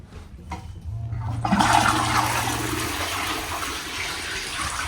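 A sensor-activated toilet in a British public restroom flushes with a loud, rushing gush of water that starts abruptly and keeps up a steady, hissing wash close by, with no talking.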